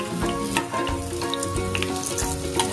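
Eggplant frying in a pan with oil, a steady close sizzle with crackling pops and occasional stirring scrapes, no talking.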